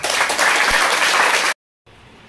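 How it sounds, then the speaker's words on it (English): An audience at a Don Bosco institution freshers' celebration bursts into loud, dense applause for about a second and a half, then it cuts off abruptly, followed by faint room noise. "let's give a round of applause"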